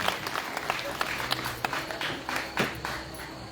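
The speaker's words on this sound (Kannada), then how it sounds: "ಜೋರಾದ ಚಪ್ಪಾಳೆಗಳ ಮೂಲಕವಾಗಿ ಒಪ್ಪಿಕೊಳ್ಳಬೇಕಾಗಿ ವಿನಂತಿ" A crowd applauds, with dense, steady clapping and a few sharper claps standing out, filling the whole stretch without pause.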